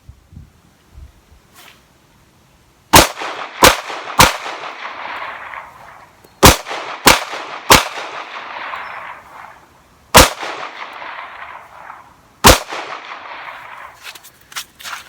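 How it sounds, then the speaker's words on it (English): A Remington Enhanced Commander .45 ACP pistol firing Hornady 185 grain XTP loads: about nine loud, sharp shots in irregular clusters, each with a short ringing decay, separated by quiet gaps. "We're going to try this out and see how it cycles in Remington's Enhanced Commander."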